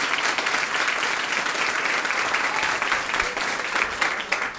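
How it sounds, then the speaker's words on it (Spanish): A church congregation at a Spanish-language First Sunday of Lent Mass gives sustained, even applause, a thick continuous patter of many hands clapping at moderate volume throughout. "Pues un aplauso a Jesucristo."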